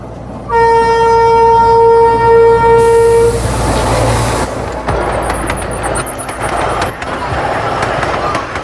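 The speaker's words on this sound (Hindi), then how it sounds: "अभी हमारी ट्रेन पहुंच रही है चीखली रोड" A 100-year-old narrow-gauge train on the Bilimora to Waghai line rumbles along with a loud, sustained horn blast at the start, followed by steady rolling clatter and mechanical noise.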